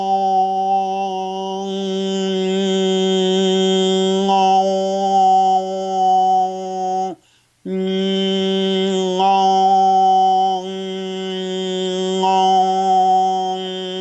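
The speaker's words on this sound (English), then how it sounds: "I'm going to start with one tone through the nose, and then I'm going to go to 2 tones." A single voice hums a steady nasal tone, then shifts into a two-tone toning sound through the nose, loud and sustained with one brief pause midway.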